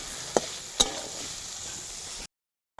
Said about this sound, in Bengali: রসুন আর কাটা পেঁয়াজটা আমার আধ ভাজা হয়ে গেল বন্ধুরা